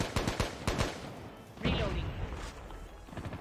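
An enemy's gun fires in Call of Duty Mobile: a quick string of sharp shots, then a heavier burst midway, with players talking over the action.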